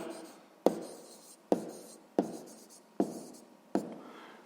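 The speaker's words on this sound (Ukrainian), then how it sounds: "Пишемо відповідь." A pen writes an answer on paper in five distinct strokes, each a crisp tap followed by a short, soft scratch, close and quiet.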